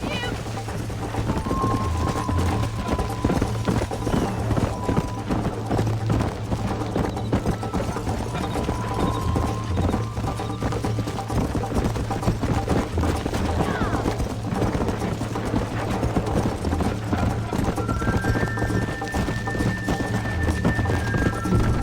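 Horse galloping in the Western video game Red Dead Redemption: continuous rhythmic hoof clip-clop over a dense, busy game soundscape with music tones, loud throughout, with speech mixed in.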